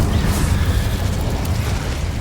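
A dense, roaring burst of flame from an Incendio fire spell in Hogwarts Legacy, loud and continuous, a close whooshing rumble that holds steady for about two seconds.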